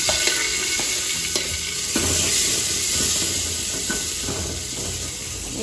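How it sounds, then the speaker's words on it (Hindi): Onions sizzling in hot tempering oil with cumin for a desi dish, a steady close frying hiss and crackle with a few small clinks of a stirring spoon, no talking. "थोड़े प्याज ना भून लेंगे"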